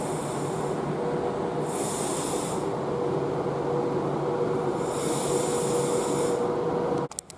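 A Class 390 electric train departs Rugby station on the West Coast Main Line, a steady close rumble with a faint tonal hum and periodic hissing swells, ending with a brief clatter.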